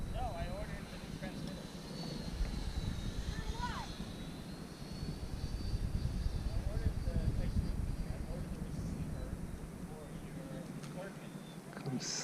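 A Freewing L-39 Albatros 80mm electric ducted-fan RC jet model flies with a steady whine that swells and fades as it passes, heard at a distance under wind noise.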